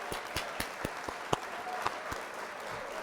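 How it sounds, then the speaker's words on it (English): An applause sound effect fires on a live stream: a thin, steady patter of clapping with a few sharper individual claps, moderately quiet and unaccompanied by talk. "I will hit the old applause"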